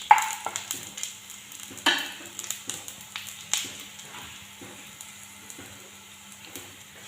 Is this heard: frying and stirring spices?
yes